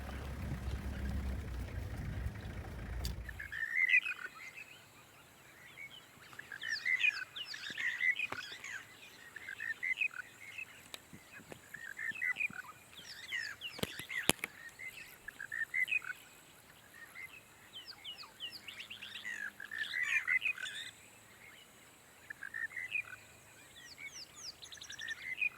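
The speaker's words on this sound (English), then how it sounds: "that is the call and the bird called a monotonous lark" Monotonous lark calling repeatedly in the open, a steady series of short, bright chirping phrases recurring every second or two against a quiet background, fairly clear and moderately close.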